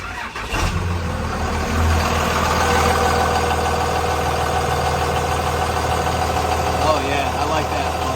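A 24-valve Cummins diesel engine settles into a steady idle after starting, a continuous low rumble that stays close and constant throughout, with people talking over it.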